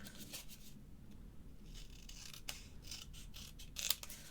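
Scissors trim material for a handmade vanity case, making soft, close snipping and rubbing sounds, quiet and intermittent with a few crisper cuts.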